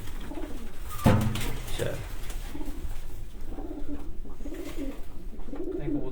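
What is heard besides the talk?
Lal Pari pigeons cooing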